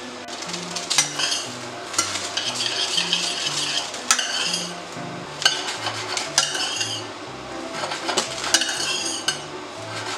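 Spinach wilting in olive oil in a hot pan, stirred with a utensil that clinks and scrapes against the metal in a repeated rhythm over a steady soft sizzle, close and without talk.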